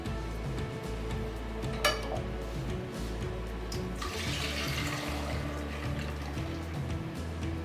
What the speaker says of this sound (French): je transfère mon liquide, mon appareil dans ma casserole.